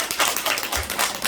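In a church service, a congregation applauds with brisk, crowded clapping that fills the short moment evenly and nearby, and no one speaks over it.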